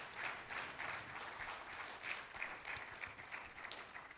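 A summit audience at an infrastructure finance and capital markets event gives a faint, distant round of applause, a steady wash of many hands clapping for about four seconds with no talk.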